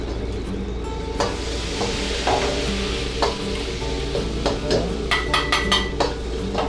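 Meat stir-fried with soy sauce in a Taiwanese-style dish hisses loudly in the pan, with repeated clanks and scrapes of a utensil against the metal, close up and without speech.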